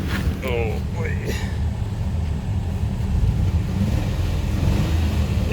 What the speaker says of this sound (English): There, I'll rev it up actually.